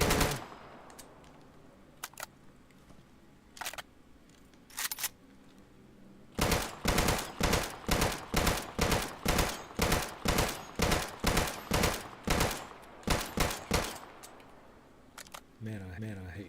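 Rapid bursts of gunfire at a turret in the survival shooter Deadside, a few scattered single shots first, then a long, steady run of sharp, evenly spaced cracks, loud and close, with short pauses near the end.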